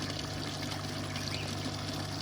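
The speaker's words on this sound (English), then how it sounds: "And then it filters through into the pond." Water from a filter trickling and pouring steadily into a backyard pond, a constant close splashing wash with a faint low mechanical hum beneath, no voices.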